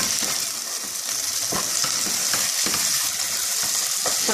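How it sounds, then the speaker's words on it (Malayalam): Onion, tomato and green chili fry and sizzle in a pan for egg curry, a steady crackling hiss punctuated by scraping stirs. "തക്കാളി നന്നായി വാടുന്നതിന് വരെ നന്നായി ഇളക്കി കൊടുക്കുക."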